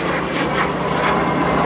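A MiG jet at an air show, flown by Randy Ball, roars past as a steady, loud broadband engine wash that swells and fades slightly, with no voices.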